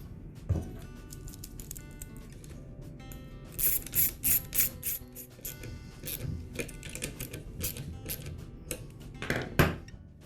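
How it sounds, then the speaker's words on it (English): Nuts being tightened onto the air filter base and carburetor of a Ryobi leaf blower, giving close, quick bursts of metallic ratcheting clicks with pauses between them. "I'll resecure the air filter base and the carburetor with the nuts."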